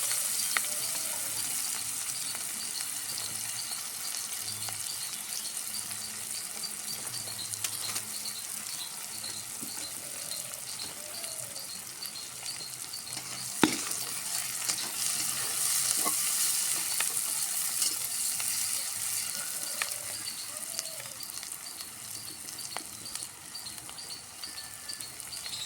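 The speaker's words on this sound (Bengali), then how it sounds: "পেঁয়াজগুলো একটু ভেজে নিয়ে এর ভিতরে মশলাটা দিয়ে দেবো।" Onions and spices frying gently in a pan for an egg curry with coconut milk, a soft continuous sizzle with occasional light clicks and scrapes from stirring, fairly quiet and without talk.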